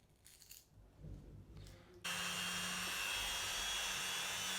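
A Dremel rotary tool cuts off a white plastic piece: after a few quiet handling noises, the tool switches on abruptly and holds a steady, close, high-pitched whine with a grinding edge to the end.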